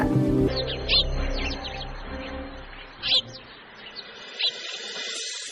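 A caged bird in a cartoon gives several short, high chirping calls spaced a second or so apart. They sound against a quiet background after a brief burst of other sound at the start.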